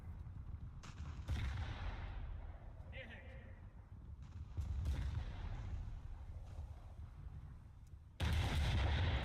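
Heavy naval gunfire in the War Thunder naval battle game, with several loud booming shots and rumbling impacts spread across the clip and a sharp blast near the end, set against continuous low engine and sea rumble.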